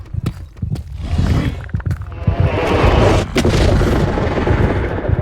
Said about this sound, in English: Now I'm close enough to the warden that I'm in the range of his sonic weapon.